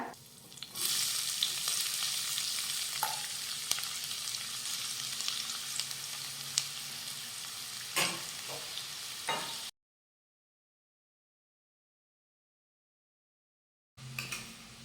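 Finely chopped onion sizzles loudly in hot oil with curry leaves in a tempering, a steady bright frying hiss with a few stirring scrapes, cutting out briefly before resuming near the end.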